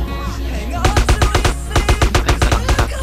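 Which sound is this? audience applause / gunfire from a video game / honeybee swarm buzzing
gunfire from a video game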